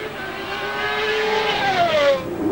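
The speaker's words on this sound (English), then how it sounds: "across the line goes Gerhard Berger in his McLaren" Gerhard Berger's McLaren Formula 1 car crossing the line during 1991 Australian Grand Prix qualifying, its high engine whine rising and then falling in pitch as it sweeps past, fairly loud with no talk over it.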